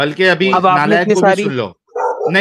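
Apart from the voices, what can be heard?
dogs barking in the background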